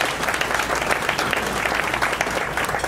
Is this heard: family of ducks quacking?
no